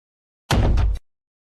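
A short placement sound effect for dropping a tower in a Unity 2D pixel art game, one brief burst of about half a second with a fluttering texture, close and alone.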